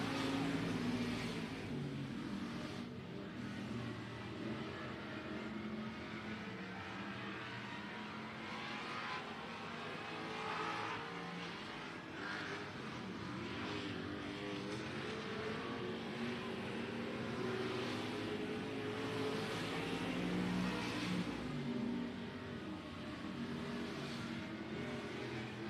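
Race cars run down the back straightaway of an oval track, heard as a steady, distant engine drone that holds level throughout without clear passes or talk.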